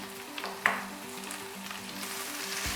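Garlic, onion and green chilies fry in a pan with a soft, steady sizzle, faint and close, broken by a brief louder crackle early on and a low background hum.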